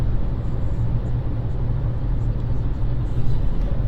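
A 2024 Volkswagen Polo accelerates on a highway while closing on the car ahead, heard from inside the cabin as a steady low road and engine rumble with no clear rise in pitch.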